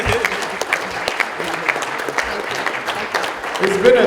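A conference audience claps steadily through a standing ovation at a public lecture, dense applause from start to finish with a few scattered voices mixed in.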